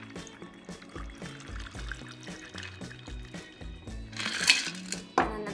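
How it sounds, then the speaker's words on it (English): A shaken rum cocktail is poured into a rocks glass, with a short liquid splash and trickle near the end that follows a stretch of low background music. "Pour that into the rocks glass here."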